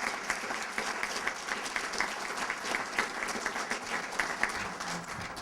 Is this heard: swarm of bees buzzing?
no